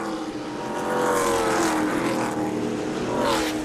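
NASCAR trucks race through turns 3 and 4 of an oval, a dense roaring wall of engines with pitches sweeping up and down as they pass, loud and continuous throughout.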